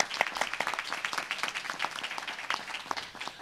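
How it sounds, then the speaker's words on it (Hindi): A temple audience claps warmly to welcome the food servers at a Hanuman Ji weekly yagna, dense continuous applause from many hands, moderately distant and steady throughout. "मैं चाहूँगा कि एक बार जोरदार तालियों से इनका स्वागत किया जाए।"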